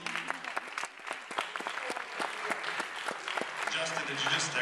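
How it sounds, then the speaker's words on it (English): Round of applause from an audience gathered at a book signing, steady dense clapping lasting throughout, fairly near and moderately loud, with some crowd murmur mixed in. "give yourself a round of applause"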